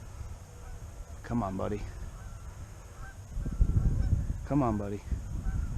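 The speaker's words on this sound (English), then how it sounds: "Single goose coming right at me." A single goose honks twice as it flies in toward a hunter in an early-season duck hunting setting, the calls fairly close and clear over outdoor rustle, with someone speaking softly between them.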